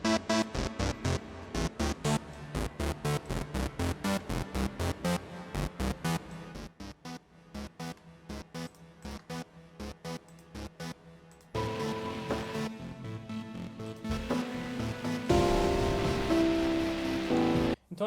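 Modular synthesizer patterns played through Ableton: a rapid pulsing sequence of percussive synth notes in a steady rhythm, shifting into denser sustained tonal textures and a high held note near the end, with no talking.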